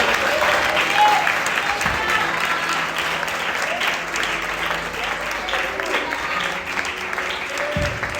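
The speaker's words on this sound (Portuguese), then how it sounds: "Aplauda o Senhor, aplauda o Senhor." A church congregation claps together during a hymn in a revival service, steady broad applause at a moderate distance, with a few faint voices and a brief low tone rising beneath the hands.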